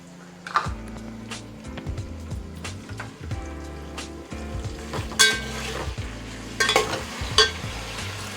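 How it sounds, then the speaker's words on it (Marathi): Chopped tomato sizzles as it is stirred into frying masala for Hyderabadi chicken dum biryani, with a steady fry hiss, scraping strokes and a few sharp utensil clinks near the pan. "त्याच्यात हा टोमॅटो जो कापलेला आहे तो आपण टाकून देऊया"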